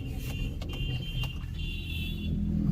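A car rolls in slowly to park at a farm venue, its engine humming steadily nearby with faint clicks and a slight rise in engine noise toward the end.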